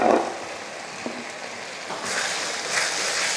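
Bitter gourd and tomatoes sauté in a pan with a steady soft sizzle, close and continuous, growing slightly brighter toward the end, with no speech.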